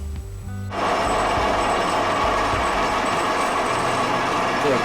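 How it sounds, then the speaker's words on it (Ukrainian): A lathe cutting tool bites into a Honda Steed 400 motorcycle steering head cup, starting abruptly and continuing as a dense, loud machining noise with a thin high squeal running steadily through it. "запищав різець, значить торкнувся"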